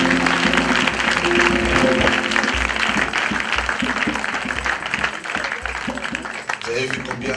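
Worshippers at an evangelistic service in a Côte d'Ivoire village applaud to acclaim the Lord: loud, continuous clapping with shouting and music-like tones underneath, a crowd voice rising over it.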